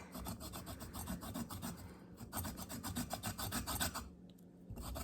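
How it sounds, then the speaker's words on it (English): Limes being zested on a small microplane grater, a rapid, regular scraping rasp of repeated strokes, close and fairly quiet, with no talking. "So I have this little microplaner, which is just a really small grater, and I'm just going to zest the limes."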